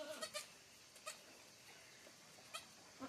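Goats bleat several times on a farm, including a young kid, short faint cries spread across a quiet background, some coming in quick pairs.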